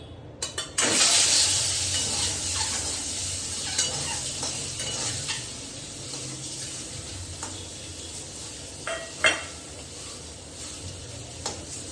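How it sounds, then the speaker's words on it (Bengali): Eggs fry in a pan with a continuous crackling sizzle, broken by occasional spatula scrapes and light clinks, close and moderately loud. "ডিমগুলো ভেজে নিই।"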